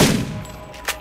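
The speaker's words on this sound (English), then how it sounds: "So let's crouch, aim, and shoot." A single sharp gunshot in the video game Borderlands, a loud close crack with a short decaying tail and a brief click just after.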